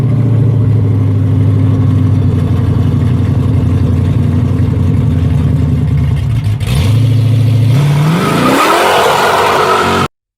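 A Dodge Charger Daytona with a Hemi engine idles with a deep, loud, lumpy rumble, then the revs climb sharply in a rising roar, heard close up with no talking.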